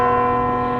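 A church bell in Iceland rings on the hour, a loud sustained metallic tone with rich ringing overtones that slowly decays.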